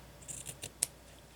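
Scissors snip through paper for journal decorations, a few quick soft cuts in close succession followed by one sharper, crisper snip, all close and quiet.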